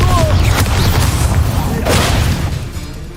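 A Confringo fire spell explodes in the video game Hogwarts Legacy, a loud dense rumbling blast with crackling bursts, heavy low-end boom throughout, with a voice briefly over the din.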